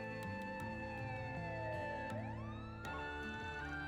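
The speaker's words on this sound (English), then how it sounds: "Police siren." In the video game Trails Through Daybreak 2, a police siren wails and sweeps in pitch over a steady background music track, fairly faint and distant, with no talking.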